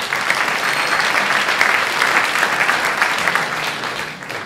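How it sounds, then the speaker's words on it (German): Sustained audience applause fills a hall during a 2020 mayoral election panel discussion hosted by the Kolpingsfamilie in Ebersberg, steady and dense throughout before tapering slightly at the end. "das ist ein Applaus wert"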